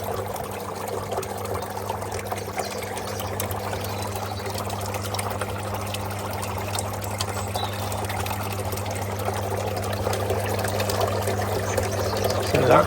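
Koi pond pump running steadily with water pouring and trickling continuously, a low constant hum beneath broadband splashing, fairly close and unbroken throughout.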